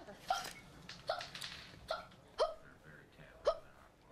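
A woman's uncontrollable hiccups, a series of sharp voiced gulps repeating at irregular intervals of about half a second to a second, close and fairly quiet, with no talk over them.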